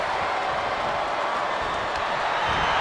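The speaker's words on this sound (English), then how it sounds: "Look at Flores getting the crowd involved" A wrestling arena crowd in WWE 2K26 roars and cheers in a dense, steady wash of noise that fills the whole moment.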